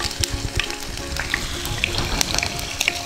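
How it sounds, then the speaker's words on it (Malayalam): Parrot fish pieces fry in hot coconut oil with a dense, continuous crackling sizzle full of close, rapid pops and spatters. "എന്നിട്ട് നമുക്ക് ഓരോ കഷ്ണം മീൻ ഓരോ കഷ്ണമായിട്ട് ഇട്ട് കൊടുക്കാം. നമുക്ക് ഓരോന്നായിട്ട് ഫ്രൈ ചെയ്തെടുക്കാം."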